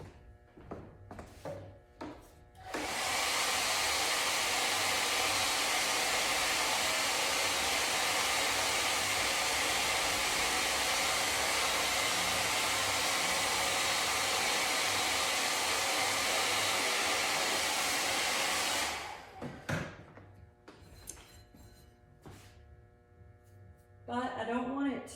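A hair dryer blows steadily to dry paint, a loud, even rush of air lasting around sixteen seconds, with quieter handling noises before and after it.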